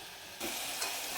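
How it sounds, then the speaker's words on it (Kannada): Onions frying in a pan for a mushroom gravy, with a quiet background that jumps into a loud, steady close sizzle, rising briefly as the pan is stirred. "ಸೊ ಈಗ ಈರುಳ್ಳಿ ಫ್ರೈ ಆಗಿದೆ ನೋಡಿ, ಸ್ವಲ್ಪ ಕಲರ್ ಚೇಂಜ್ ಆಗಿದೆ."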